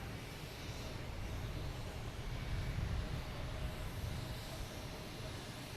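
An SAS airliner passes at Boston Logan Airport, a steady distant jet roar that swells slightly near the middle and then holds, faint and broad with no voices.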